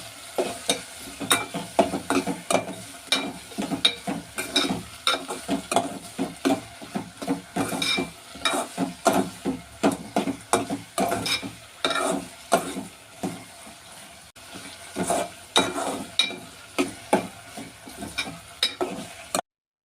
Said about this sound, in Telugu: ఇప్పుడు ఎండు ఉల్లిపాయ ముక్కలు, పచ్చిమిరపకాయ ముక్కల్ని 2 నిమిషాల పాటు ఫ్రై చేసుకోవాలి